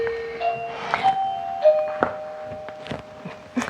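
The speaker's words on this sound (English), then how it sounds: "That's my doorbell." A doorbell chimes indoors at home during a yoga session, with a few clear, ringing tones sounding fairly near over a quiet room with light knocks.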